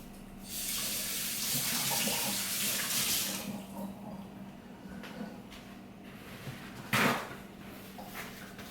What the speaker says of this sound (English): now I'm going to go rinse my hands because I don't want to get cinnamon in other places